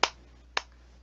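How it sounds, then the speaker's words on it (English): A soft, polite golf clap: two quiet, crisp hand claps about half a second apart, then a fainter third, close up with nothing else around them. "Yes, golf clap."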